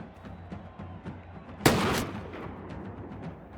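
A single loud pistol shot in Mount & Blade II: Bannerlord, a sharp blast with a short decaying tail, set against a faint background of distant crackling battle noise.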